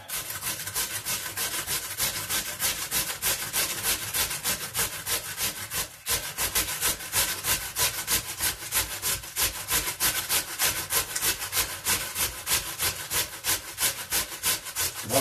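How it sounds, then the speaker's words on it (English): Potatoes grated by hand in quick, even rhythmic strokes, a steady scraping rasp repeating for the whole stretch, close and loud with a brief pause partway through. "grating these potatoes."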